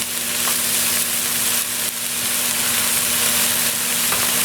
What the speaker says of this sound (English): we're going to throw in the sausage